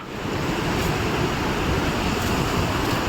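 The Teesta and Rangeet rivers rush in a steady, loud roar of flowing water, broad and continuous with wind buffeting the microphone and no voices.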